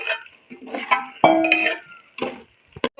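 A spoon clanks and scrapes as fried arbi is stirred into a meat curry in a pot, a few distinct metallic knocks and stirs close by, no talk.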